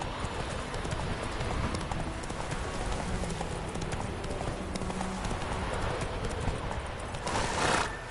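Roach the horse clip-clops steadily in a PS4 video game, a continuous run of hoofbeats over a soft hissing background with a brief louder burst near the end.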